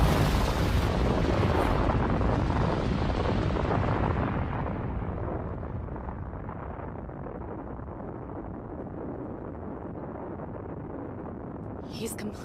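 A roaring anime blast of fire tears through a castle, a loud sustained rumble that swells at once and then slowly fades into a long low roar.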